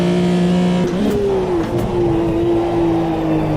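Group C race cars in the racing game Automobilista 2 roar past at Silverstone, a loud sustained engine drone whose pitch shifts as the cars pass.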